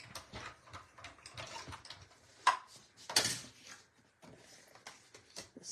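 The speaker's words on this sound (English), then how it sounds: "Let's get the mini die cutting machine in." Mini die cutting machine being cranked, giving a series of soft mechanical clicks and ratcheting turns with a couple of sharper clunks midway, fairly close and quiet, with no talk.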